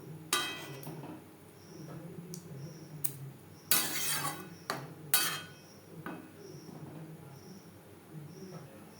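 A spoon stirs omelette pieces and potato curry in a metal pot, making sharp, close clinks and scrapes in irregular bursts over a quiet simmer.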